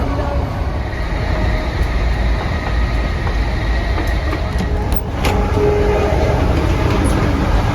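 Continuous rumble of a Class 319 electric train speeding up in London, heard from on board, with occasional squeals and clicks over a steady roar.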